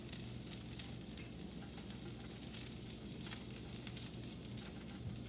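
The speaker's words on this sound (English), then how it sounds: "So here they're frying pretty good" Potatoes fry in a pan with a steady, faint sizzle and soft crackling patter that runs evenly throughout, with no talking.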